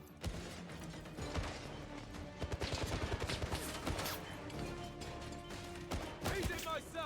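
A frag grenade goes off amid a 007 video game firefight: dense crackling gunfire, clattering mechanical clicks and bursts of shots layered with game music and voices throughout, fairly quiet overall.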